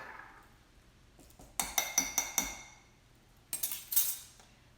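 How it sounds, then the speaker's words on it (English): A metal teaspoon taps and clinks against a container as minced garlic is added, a quick series of sharp clinks followed by a second short burst, close and clear. "we're going to add a half a teaspoon of minced garlic"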